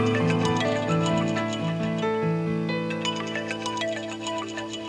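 A melodic electronic ringtone plays steadily with layered tones and a ticking pattern, moderately quiet and with no voices.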